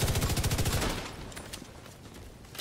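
L86 machine gun firing in a video game, a fast, loud burst of rapid rounds for about a second, then scattered fainter shots and impacts trailing off.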